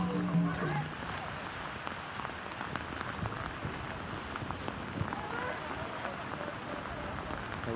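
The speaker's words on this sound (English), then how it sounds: "The rain has got seriously heavy now." Heavy rain sheeting down on a rugby pitch during a World Tens Series match, a dense continuous hiss of downpour filling the whole stretch at steady loudness, with faint crowd noise beneath it.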